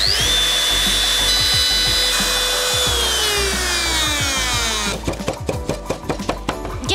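A power tool routs a straight groove into wood, a steady loud whine with a rising pitch for about five seconds, then breaking into rapid rhythmic clattering bursts as the cut finishes.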